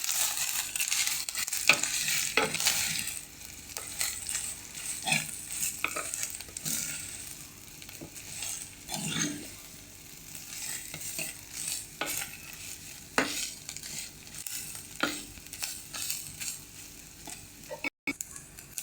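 Grated coconut being stirred in a hot pan for a roasted-coconut anchovy curry, a steady scraping stir over a soft sizzle, close and continuous with no talking.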